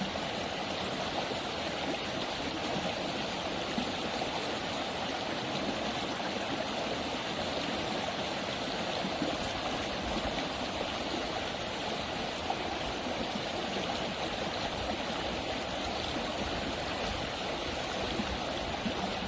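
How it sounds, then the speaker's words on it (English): A fresh river flows steadily in an Unreal Engine game level, a constant broad rush of running water with no variation or voices throughout. "the fresh flowing river allows the player to get a change of scene."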